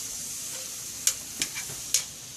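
Precooked fajita meat and shrimp reheat in a pan with a soft, steady sizzle, broken by a few faint clicks and spatters.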